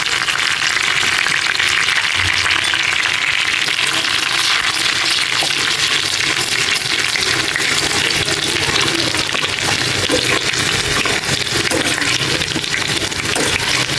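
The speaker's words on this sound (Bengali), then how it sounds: "ডাল বাগারের জন্য আমি এতো রসুন কুচি দিয়ে দিলাম, পেঁয়াজ কুচি দিয়ে দিলাম, তারপরে বাদামি রঙের ভেজে তারপর ডাউলে ছেড়ে দেব।" Chopped garlic and onion frying in hot oil for a dal tempering give a dense, steady sizzle with crackling pops, close and continuous, with no voices.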